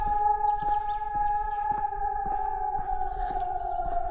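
A steady wailing warning siren sounding a test holds at a distance near a dam, accompanied by a regular ticking pulse and faint outdoor ambience.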